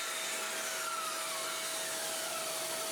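A saw station rips long timber strips for a catamaran build, giving a steady, close, loud whirring cut with a faint high whine that holds for the whole three seconds, no talking.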